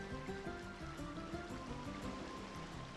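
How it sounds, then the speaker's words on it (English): Flowing water in the video game Tales of Symphonia, a soft, continuous stream-like rush that stays faint and even throughout with no voices over it. "The water flowing in my left ear."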